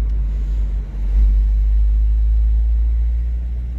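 A steady, deep Ford Scorpio 2.0 GL engine rumble runs throughout, swelling slightly louder partway through, with no voices over it.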